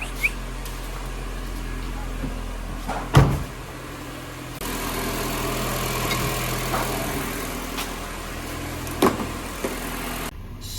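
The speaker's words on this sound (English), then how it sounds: "now the engine is idling perfectly at 1000 RPM" A car engine idling steadily at about 1000 RPM after a throttle body deep clean, a low continuous hum with a few brief clicks and knocks nearby, and some talk heard faintly.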